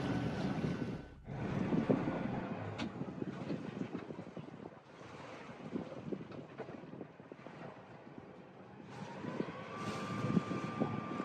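A boat motor runs steadily beneath gusty wind and rushing water while cruising off Italy, loud and continuous, with no talking.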